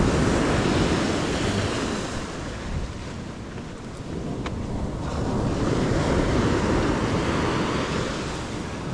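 Steady wind roars over crashing ocean surf, the waves rising and falling in a constant rush with no voices.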